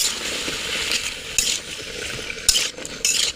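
A spatula stirs ginger, garlic and green chilli paste in a frying pan for a mango dish, with scraping, metallic clinks and a few sharper knocks over a soft sizzle, up close and without talk.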